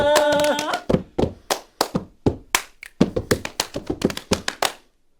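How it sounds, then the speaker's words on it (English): Hand clapping at a live radio show in Brno, a steady run of sharp individual claps right after a sustained musical chord fades, close and alone without speech. "I'm alone here to clap, but I really want to."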